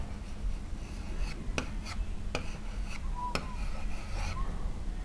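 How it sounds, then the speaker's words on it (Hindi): Pen or pencil writing a word by hand on paper, with short scratchy strokes and a few sharp taps spread over several seconds, faint against steady low background hum; no talking. "इस तरह से हमने मसूड़ा लिख लिया"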